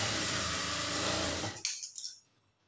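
A sewing machine stitching blouse cloth, a continuous close whirring hum that stops abruptly, followed by a few brief clicks and handling noises before quiet.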